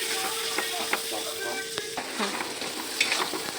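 Spice paste sautéing in a pan over a low flame: continuous soft frying sizzle with a few clinks and scrapes of a spoon against the pan, alone and close.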